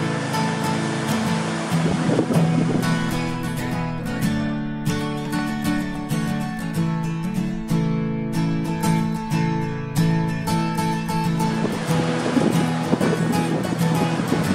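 Large waves break on a Sea of Japan beach, a loud continuous wash of surf with wind rushing across the microphone and a faint tonal layer underneath.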